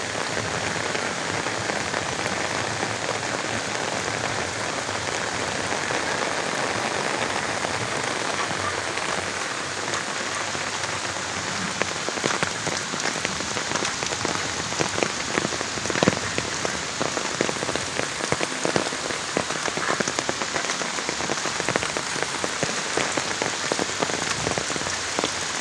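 Heavy rain pours down steadily beside a swollen river, a dense continuous hiss of drops drumming on surfaces nearby.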